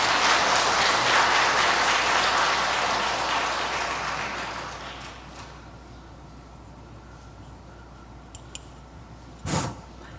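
Audience applause at a lecture hall talk on the painter Caravaggio swells loudly at first, then fades away over about five seconds into quiet room tone with a faint thump.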